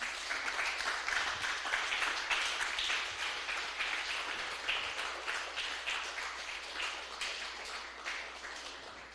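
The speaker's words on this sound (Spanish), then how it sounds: "Denle un fuerte aplauso al Señor, aleluya." Church congregation clapping together in steady, rhythmic applause, heard at moderate distance and fairly quiet, sustained throughout without talk.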